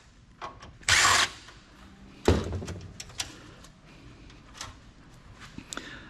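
Power drill unscrewing screws from an old Hewlett Packard PC during scrapping: short bursts of whirring drill, one longer buzz and several brief ones, with clicks and handling clatter between in a quiet room.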